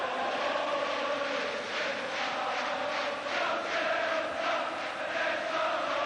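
A 53,000-strong stadium crowd of Celtic supporters chants, sings and cheers at a Scottish Cup match against Rangers in 1991, a continuous loud roar with rhythmic swells and no voice standing out.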